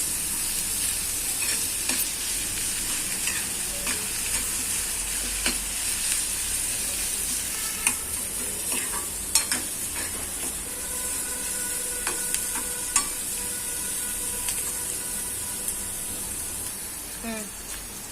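Coriander, curry leaves and mint are sautéed with cabbage in a pan, a continuous close sizzle broken by scattered scrapes and clinks of a spoon as the mixture is stirred.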